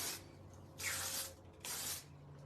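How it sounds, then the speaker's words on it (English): Two quick bursts of hairspray hiss from an aerosol can onto hair, each about half a second, close and fairly quiet, separated by a short gap over a faint room hum. "I think outfits look better when your hair looks better. So I'm just spraying it real quick."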